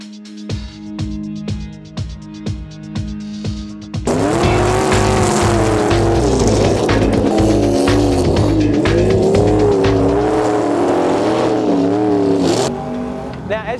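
Cars ice racing on a frozen track in Colorado, engines revving hard and whining through gear changes as they slide past, loud and close, after a quieter start of idling and ticking.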